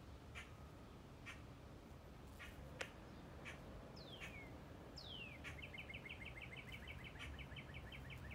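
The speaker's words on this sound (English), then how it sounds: "That very loud bird you hear is cardinal." A cardinal sings loud, clear downslurred whistles followed by a rapid run of repeated chips, standing out over faint backyard ambience.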